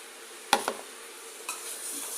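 Carrot halwa with khoa stirred in a pan: a couple of sharp spoon clacks against metal and soft scraping over a faint steady sizzle, close by with no talking.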